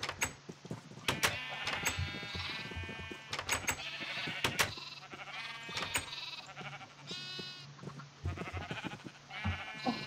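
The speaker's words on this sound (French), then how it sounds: "Oh putain, il y a trop de moutons." Many sheep bleat in a French survival video game, a dense, overlapping chorus of calls from several animals near and far across the whole stretch, with no talk over them.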